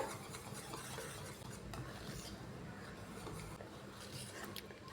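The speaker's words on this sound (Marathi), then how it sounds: "आता हे छान मिक्स करून घेऊ एकदा" Banana batter with a pinch of baking soda stirred in a bowl, a steady soft scraping and slurping of the spoon that runs without pause, fairly close.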